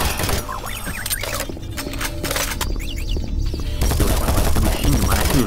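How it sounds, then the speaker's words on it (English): Rapid machine gun bursts from a P90-style weapon in the video game Doom 3, loud and close, with gaps between bursts and game sound effects around them. "The machine gun, I do love it."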